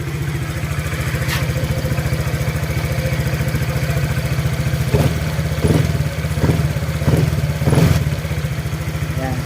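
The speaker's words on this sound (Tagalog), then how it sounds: "Yung lagitik niya mga sira na narinig niyo, ah, normal po yan sa click." A Honda Click scooter engine runs steadily at idle up close, with a light ticking from the valves over the even hum and a few louder clacks and blips near the end.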